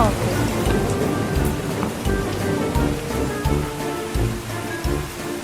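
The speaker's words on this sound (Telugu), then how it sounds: "బయట బాగా వర్షంగా ఉంది కదా మేడం" Heavy rain falling outside during a thunderstorm, a continuous loud patter with low rumbling thunder and a voice talking over it.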